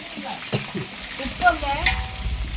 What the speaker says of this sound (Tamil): அப்படி கிண்டி விடுங்க